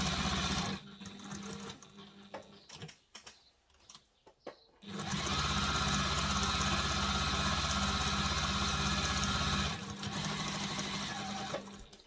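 A sewing machine runs a fabric seam with about an eighth-inch allowance on a baby diaper bag, starting with short stop-start bursts, then a loud, steady, close-up continuous whir for several seconds before it stops briefly and resumes.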